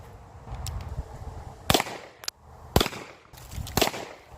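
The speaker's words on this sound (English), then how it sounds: "let's fire 3 more and see if we can tighten that group down a little bit" Tokarev pistol fired at a shooting range, three sharp loud shots spaced about a second apart after a quieter lead-in with small handling noises.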